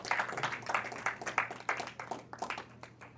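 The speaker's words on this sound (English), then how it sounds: "Let's give a round of applause for the man of God." Church congregation applauding after a sermon on Nehemiah, a moderate, uneven round of many hands clapping at close-to-mid distance, with a low steady hum underneath.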